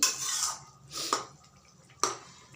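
A cooking pot of potato and dried lotte fish curry is lifted off the stove, giving a few metallic clinks and scrapes close by, with a sizzling hiss at the start.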